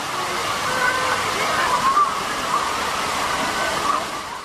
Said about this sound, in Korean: 레나르트 박사가 음이온은 폭포 주변에 많다고 했는데 도심의 분수 주변에서도 많이 존재하는지 궁금했다.